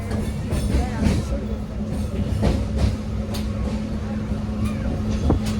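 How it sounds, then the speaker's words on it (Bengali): A Bokaro-to-Bardhaman passenger train rumbles steadily into a station with a low mechanical drone and rhythmic clatter of wheels, loud and close, with faint voices in the background. "এই ট্রেনটি আসছে বোকারো থেকে।"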